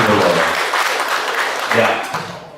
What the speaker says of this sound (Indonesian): Tepuk tangan untuk pickleball.